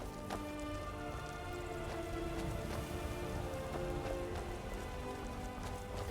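Rainfall in the video game Skyrim, an unbroken, even patter of drops hissing across surfaces, steady and fairly close with no voices, holding the same level from start to finish.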